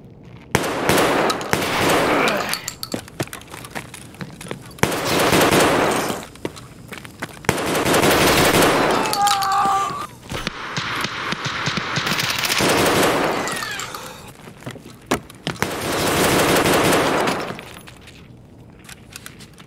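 Shotgun blasts from a Saiga 12 loaded with 8.5mm Magnum buckshot or flechette in the game Escape From Tarkov, coming as several loud bursts of rapid booming shots separated by short pauses.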